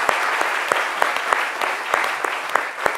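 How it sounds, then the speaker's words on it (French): An audience on a midday French-language talk show claps steadily, a close, even wash of applause with a few sharper individual claps standing out and no talking. "On applaudit quand même."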